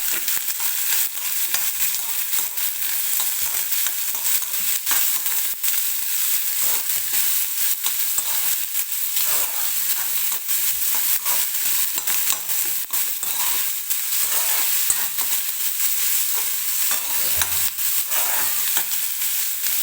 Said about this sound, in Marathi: हलक्याशा मऊ होईपर्यंत फक्त आपण हे भाजून घेणार आहे